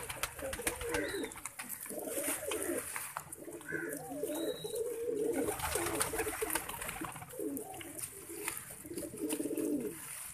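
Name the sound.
pigeons cooing in a breeding cage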